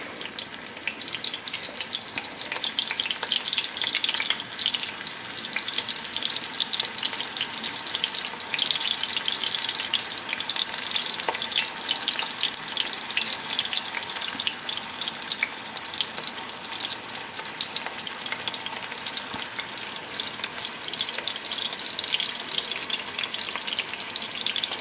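Spicy chourico picante frying in hot oil in a cast iron pan, a loud, continuous spattering sizzle that holds steady and dense throughout, close up with no pauses.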